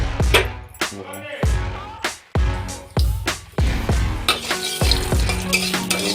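Madaranga saag greens sizzle in a hot pan while a utensil stirs and scrapes them in repeated sharp strokes, a close, steady crackle between the bursts.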